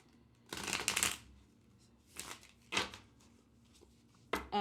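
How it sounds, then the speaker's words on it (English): A tarot card deck riffle shuffled several times, quick fluttering bursts close by, separated by brief quiet gaps, with a final snap of the deck at the end. "the best way to get rid of a lot of chunk is to riffle shuffle it"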